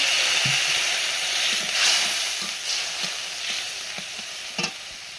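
Ginger and paneer paste with spices and a splash of water frying in a pan, a steady soft sizzle and hiss with occasional stirring scrapes and light clinks throughout.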